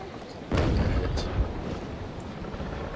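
Naval Action cannon fire in a video game gives one deep booming shot followed by a second, lighter blast, then a rumbling tail that fades into low background.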